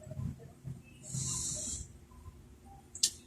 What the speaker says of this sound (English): Sir, can you inhale and exhale for me, sir?